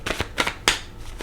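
A deck of cards is shuffled in a few quick riffling bursts, close and crisp, with no talking.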